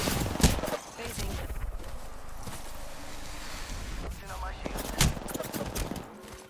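Gunfire in a first-person shooter video game, bursts of shots with sharp impacts around the half-second and five-second marks over a noisy, rumbling battle backdrop, with voice chat talking over parts of it.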